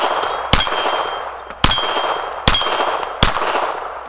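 Four sharp metallic clangs ring out at steady intervals from a Beretta 80X Cheetah .380 pistol's rounds striking steel target plates, each impact bright and ringing with a short decaying tail, heard fairly close with no talking.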